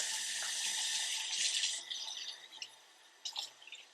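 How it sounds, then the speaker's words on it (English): Tap water runs steadily over a motorcycle helmet visor Pinlock insert being rinsed, a close, even splashing hiss with a few brief drips and splatters near the end. "what we're going to do is rinse this guy"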